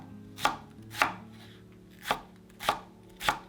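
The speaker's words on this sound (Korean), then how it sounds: "애호박과 감자, 그리고 대파를 썰어줍니다." A knife chops zucchini, potato and green onion on a board as vegetables are prepped for spicy jang kalguksu noodle soup, giving five sharp, close, evenly spaced strikes over a faint low hum.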